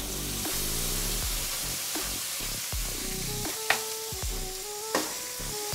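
Water from cooking conch hits a bowl of tomato sauce and sizzles loudly, a continuous hissing fry with stirring scrapes and a couple of sharp clinks, no talking.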